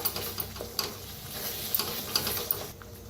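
Masala fries in oil in a kadhai for an egg curry while it is stirred, making a low sizzle broken by a series of sharp scrapes and taps from the spoon against the pan.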